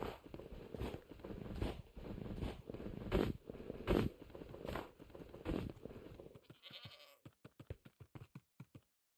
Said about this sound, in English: I'm just trying to see what this goat's up to.